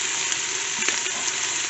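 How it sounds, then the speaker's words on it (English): Onions, garlic, cilantro, scallion and hot peppers sizzle steadily in hot oil, a loud, continuous frying hiss with faint stirring clicks and no talking. "I'm going to fry up my aromatics"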